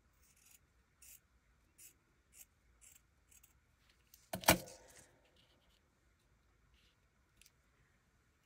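Scissors snip paper into ear shapes for handmade Easter journal cards, a run of short, quiet, evenly spaced cuts with one louder, longer rasping cut in the middle, close by and with no talk.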